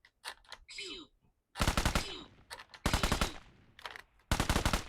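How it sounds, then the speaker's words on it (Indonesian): Rapid bursts of automatic gunfire, several loud rattling volleys separated by short pauses, with a few softer mechanical clicks and sounds in between. "Oke, kita coba tembak."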